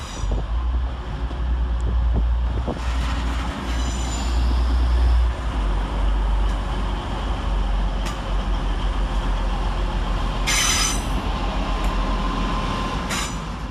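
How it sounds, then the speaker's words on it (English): A TransPennine Express class 185 diesel unit pulls into Sheffield station on a Manchester Piccadilly service, its engine rumbling low and loud while wheels hiss and squeal briefly near the end, with no voices. "Next in to terminate with a Transpennine Express service from Manchester Piccadilly is"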